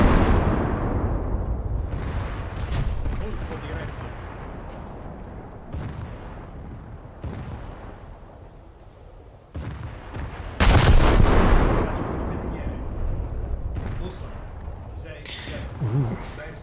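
Ship guns boom in a naval video game, with repeated heavy cannon blasts and rumbling impacts, a particularly loud salvo near the middle, while a person talks over the gunfire.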